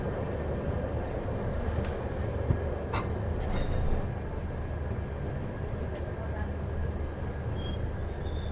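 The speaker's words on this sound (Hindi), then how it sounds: "देवबंद जंक्शन प्लेटफॉर्म नंबर 3 पर हमारा अराइवल हो रहा है।" A passenger train on the Kotdwar Express journey rolls into Deoband Junction, heard from inside as a steady low rumble with faint rattles and squeaks throughout, continuous and fairly loud.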